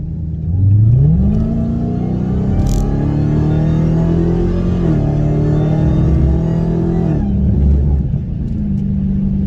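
A car accelerates hard up to 100, its engine note climbing steadily through the gears with a brief dip at a shift, loud and close from inside the cabin, with no talking.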